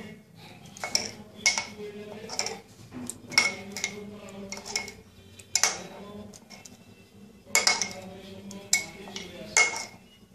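A spoon mixes boiled potatoes with spices and black salt in a bowl for Bengali aloo kabli. Intermittent metallic clinks and scrapes come in short clusters with quiet gaps, close to the listener and alone.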